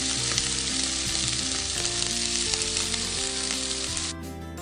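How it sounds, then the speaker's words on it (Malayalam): Chicken frying in sunflower oil in a pan, producing a loud, steady, close sizzle with a dense crackle that continues unbroken until near the end. "ചിക്കൻ നമ്മൾ ഇതിലാണ് ഫ്രൈ ചെയ്തെടുക്കാൻ പോകുന്നത്."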